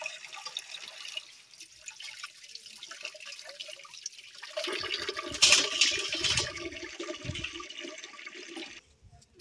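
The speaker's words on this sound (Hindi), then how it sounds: "तो ये देखिए पानी भर लिया है।" Water runs steadily to fill a freshly dug hole in the soil, with a light trickle that swells into a stronger rushing flow midway before easing, close by and with no talking.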